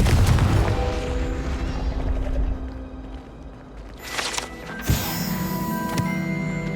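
A Confringo fire spell in Hogwarts Legacy bursts with a heavy, loud boom over a dense rumbling game soundscape, followed by sharper crackling impacts and ringing magical tones, with no talking.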